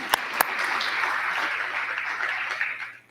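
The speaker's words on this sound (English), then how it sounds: "Applause." Applause at a school board meeting held at Stanton Academy as the principal is introduced, a full room clapping steadily with a couple of sharper claps at the start before it tapers off.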